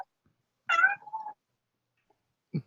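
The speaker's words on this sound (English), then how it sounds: "Oh yeah, now it sounds like a cat." A cat lets out one clear, close meow with a rising then trailing tone, followed by quiet and a brief faint sound at the end.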